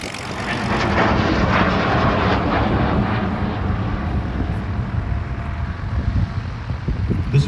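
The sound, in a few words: de Havilland Venom jet fighter aircraft engine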